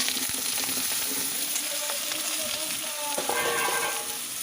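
Small diced eggplant cubes for a pickle-style dish dropped into hot oil, a steady close sizzle with light stirring clicks and scrapes.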